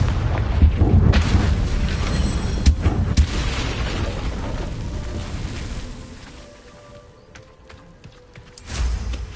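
A Confringo spell explosion in the Hogwarts Legacy video game, heavy booming blasts with rumbling low-end impacts, loud at first and fading, then another deep burst near the end.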